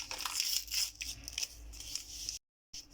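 A packet of vanilla sugar is torn open while making an apple tart: close, crisp crinkling and tearing of paper in quick bursts, then a short silence.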